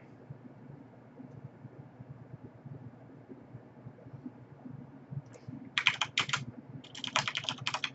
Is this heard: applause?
no